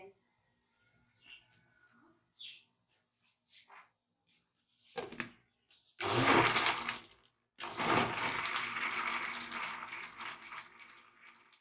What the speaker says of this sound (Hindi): बर्फ, पुदीने के पत्ते, चीनी और नमक, लेमन जूस, इसे हम ब्लेंड कर लेते हैं।